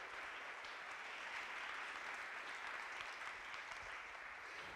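Steady, dense applause from a crowd at a student science festival awards ceremony, honouring Andres Koppel; even, sustained clapping with no voices on top.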